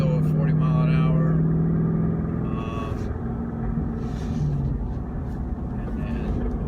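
A 2015-18 Ford Mustang with a Corsa Sport or Xtreme exhaust gurgles at low speed, a steady deep burbling drone beneath someone talking.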